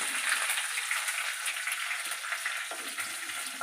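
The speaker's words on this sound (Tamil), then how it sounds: "கருவேப்பிலை போட்டால் வெடிக்கும்" Steady crackling and sizzling of leaves frying in hot oil, a continuous spattering hiss with small pops throughout.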